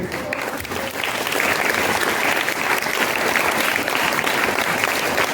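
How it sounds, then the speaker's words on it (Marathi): Children clap together at a children's literature gathering, a dense and steady burst of applause that holds loud and close for the whole stretch, with no talk over it. "आता प्रत्येकाची टाळ्या वाजवण्याची वेगळी पद्धत आहे."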